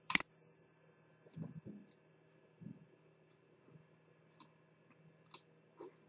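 Quiet computer mouse clicks sound close by in a near-silent room: one sharp click at the start, then several softer, irregularly spaced clicks and light taps.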